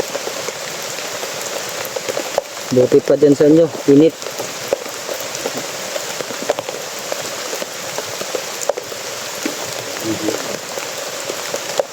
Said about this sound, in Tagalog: Sobrang araw-araw na lang yung ulan dito mga tol.